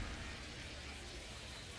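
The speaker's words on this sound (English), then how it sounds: "the rain's still a factor here, and the umpires may have their hand forced sooner than later" Rain falls on a baseball field in the video game MLB 25, a steady, unbroken hiss that fills the whole moment at an even level without letting up.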